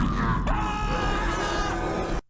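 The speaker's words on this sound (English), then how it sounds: "We see a sort of blackness with this ethereal screaming and monstrous laughing coming out of it." A Ben 10 cartoon scene delivers a drawn-out, ethereal scream blended with a deep monstrous groaning laugh, loud and sustained before cutting off abruptly.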